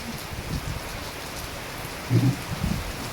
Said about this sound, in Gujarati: મારું ગામ છે ને ત્યાં વરસાદ પડી રહ્યો છે